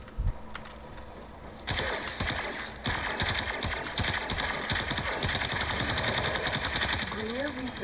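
A Warframe Ambassador rifle fires rapid, crackling shots in quick succession after a quieter opening, with dense game effects and a voice speaking underneath.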